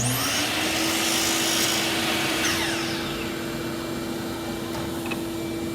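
Table saw taking a whisker-thin trim cut off a piece of wood for an end table, a steady loud whine of the spinning blade with a brief rasp as it bites, close and alone.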